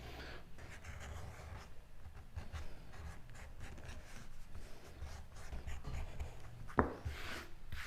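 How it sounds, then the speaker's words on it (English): A burnishing tool rubs along the round edges of a leather saddle swell-bag lid, making soft, continuous scratchy friction strokes that stay quiet and close, with one brief sharper knock near the end. "What I'm going to start edging and burnishing on the lid is just the round edges."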